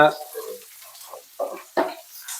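Onions going into a pan with curry leaves over low heat while cooking karamani sundal. A voice speaks at the start, then brief bursts of sizzling and stirring follow.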